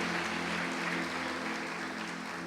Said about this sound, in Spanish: Damos fuerte esa ofrenda de palmas a nuestro Dios